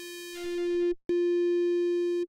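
A sustained synthesized tone pushed through Ableton's Saturator in hard curve mode, buzzy and rich in overtones, holding steady for about a second, cutting out briefly, then returning as a second long, loud note.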